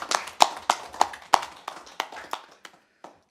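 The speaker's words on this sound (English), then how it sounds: "you should give yourself a round of applause" A small round of applause at a local area committee meeting: a few hands clapping in a loose, uneven rhythm of sharp claps that gradually thin out and stop.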